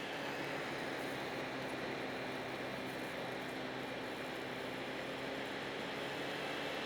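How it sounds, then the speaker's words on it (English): Laptop cooling fans whir at high speed under heavy CPU load and high processor temperatures, a steady, loud, close airy rush with a faint tonal hum that holds without letup for about seven seconds, with no voices. "That noise is the fans on my computer kicking"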